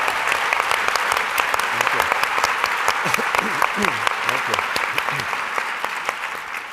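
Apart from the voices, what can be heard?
audience applause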